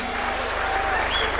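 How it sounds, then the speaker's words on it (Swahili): Crowd at a Kenyan UDA political rally applauds steadily, a dense continuous wash of clapping that stays loud and even throughout, with a faint voice in the background. "Tuwapigie makofi."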